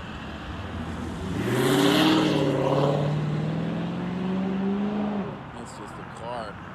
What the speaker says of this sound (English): That's just a car.